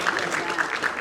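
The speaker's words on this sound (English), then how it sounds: "So give yourselves a round of applause." A class in an animation drawing lesson gives a short burst of indoor applause, a dense patter of clapping hands mixed with light voices.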